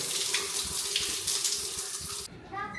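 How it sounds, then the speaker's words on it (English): Water from a sensor-activated toilet at the Madonna Inn rushes in a steady, close hiss for about two seconds, then cuts off abruptly, leaving faint ringing tones. "If you stand here and block the sensor for an extended period of time, the water starts flowing even more."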